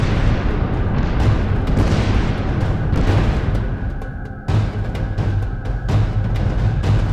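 An artillery battery firing siege shells in a grim war setting, heavy low rumbling booms rolling continuously with a brief lull, then resuming loud and close, with no voices over it.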